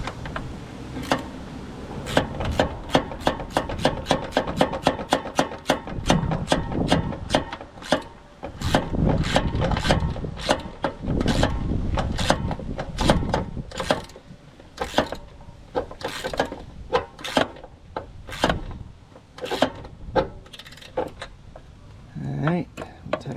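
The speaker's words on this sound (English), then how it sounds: "So what's happening is when I'm loosening it, the rust builds up in the threads, causes an extreme amount of friction." Rusty bolt being loosened on a 2006 Jeep Wrangler headlight bucket, a long run of close, rapid, dry ratchet-like clicks and creaks in uneven bursts that continue for over twenty seconds.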